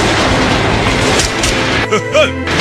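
A train in an action film scene, a dense rumbling rail noise with clattering wagons, loud and steady, then breaking into a few brief tonal sounds near the end.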